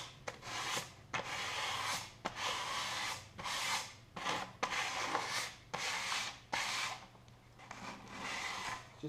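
Sandpaper of 100 to 200 grit rubs along the wooden bearing edge of a vintage drum shell, a steady scratchy rasp in repeated strokes with brief pauses between them, close and alone over a faint low hum.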